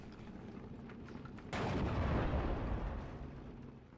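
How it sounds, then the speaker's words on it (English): A mortar shot booms in the WWII strategy game Steel Division: Normandy 44, a sudden loud blast after a quiet lead-in that rumbles and slowly fades over the next couple of seconds. "I feel like that first mortar shot's gonna kill us though"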